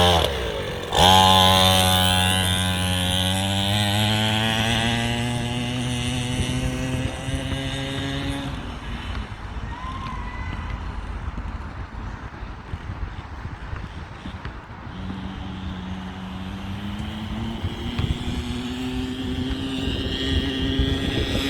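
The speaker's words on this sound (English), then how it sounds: "Pretty fast little bike." A Dr-x 50cc kids' dirt bike engine revs up through rising, buzzy pitches, then settles into a rough, fluctuating run, loud and near, with faint background voices.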